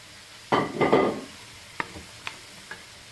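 Fried prawns tossed and stirred into a pan for prawn noodles: two loud scraping, sizzling bursts up close, then three short, sharp clinks spaced out over a quiet background.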